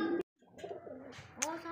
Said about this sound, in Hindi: ये कबूतर अंदर हैं, बाकी कबूतर ये बाहर भी हैं।